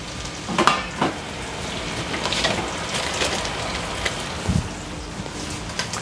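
Sliced shallots frying in melted butter in a pan on an induction hob, a steady close sizzle and crackle with a few sharper spits and stirring knocks.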